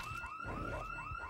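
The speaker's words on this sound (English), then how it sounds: "Why would a survivor's house have a fucking alarm system going on live?" A house alarm system rings in the Project Zomboid video game, a steady electronic warbling wail that is continuous and fairly faint.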